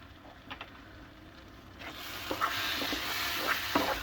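Grape leaf stuffing with parsley being stirred in a pot, soft scraping and gentle wet mixing sounds, a few quiet strokes early then a louder sizzling, bubbling texture in the second half.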